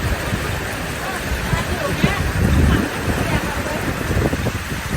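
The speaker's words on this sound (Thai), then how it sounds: "ลมแรงมาก" Strong storm wind at a tent campsite at Khao Yai, Thailand, roars and gusts across the microphone, swelling and easing in a constant rushing noise.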